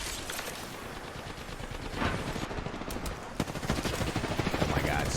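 Automatic weapon fire from an Apex Legends match rattles in rapid bursts, intensifying toward the end, with a sharp crack midway and faint player voices underneath.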